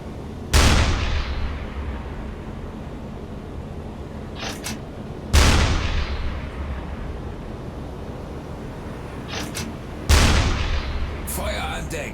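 Three heavy booms from a U-boat's deck gun in a submarine video game, evenly spaced about five seconds apart, each a loud sharp blast with a long rumbling decay over a steady engine and sea drone.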